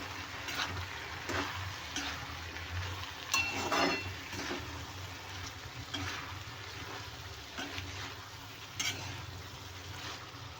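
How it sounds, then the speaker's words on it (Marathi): Tomatoes sautéing in a pan, a faint continuous sizzle with soft stirring and occasional light scraping clinks. "आता आपण घालूया टोमॅटो तर इथे घातला आहे टोमॅटो आता परतून घेऊया"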